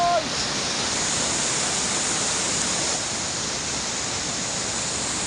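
Malico Falls in Pangasinan roars as a steady, dense wash of falling water, loud and unbroken throughout, with no voices over it.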